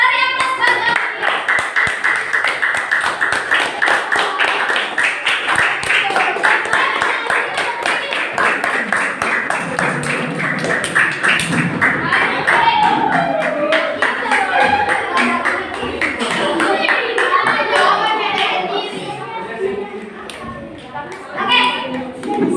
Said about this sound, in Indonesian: Mari aplaus buat kelompok 3.